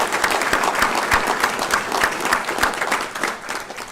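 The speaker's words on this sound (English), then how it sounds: "I would ask that everyone provide you with a round of applause." A room of attendees at a criminal justice and school district board of trustees meeting breaks into a sustained round of applause, dense steady clapping with no one speaking over it.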